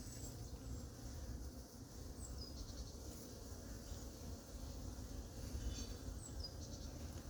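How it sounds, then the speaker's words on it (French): Honeybees buzzing at an opened beehive during feeding at an apiary: a steady, dense, low drone that fills the whole clip, with no talking. "Là, on a des abeilles."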